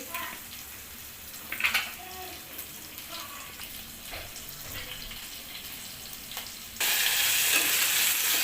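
Green chilli, tomato and peas sauté in a pan, a continuous moderate sizzle with occasional stirring knocks, swelling into a louder, harsher hiss for the final second or so.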